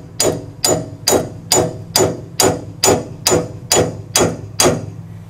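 A hammer strikes a ball splitter wedged into a car's suspension joint during a wheel bearing job. Eleven loud, evenly spaced metallic whacks land close by at a steady rhythm, with no talking.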